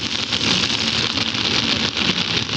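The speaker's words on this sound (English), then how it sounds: "the rain has not let up" Steady rain falling outdoors during a cycling race stage finish in Langkawi, a dense, even hiss of drops with no talking.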